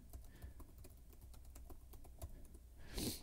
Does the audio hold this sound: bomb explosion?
no